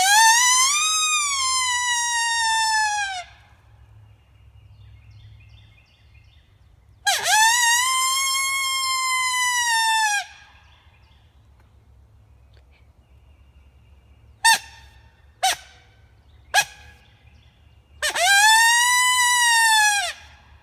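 Turkey locator calls ring out as loud, clear, wavering hoots, with a long call, a second long call, three short sharp blasts, and then another long call, separated by quiet gaps outdoors.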